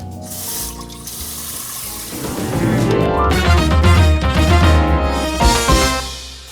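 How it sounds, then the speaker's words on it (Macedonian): Cold water runs from a tap straight over frozen clams to thaw them. The stream is loud and close, and its pitch climbs as water pools and splashes in the sink. "Ќе ги ставите под течен млаз вода да отстојат 7-8 минути, да тече директно водата над нив, не топла, туку ладна вода."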